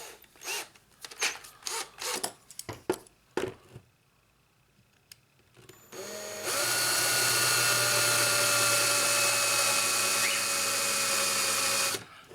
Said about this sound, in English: we're going to go ahead and drill out the posts with a small drill bit like this